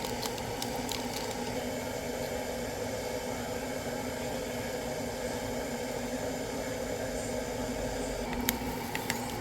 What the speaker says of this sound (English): As you can hear the water boil.